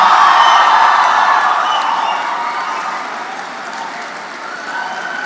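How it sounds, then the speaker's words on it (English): A large hall of people at a university convocation breaks into loud, sustained applause with a few cheers, starting strong and gradually easing off over about five seconds. "so it deserves this kind of applause"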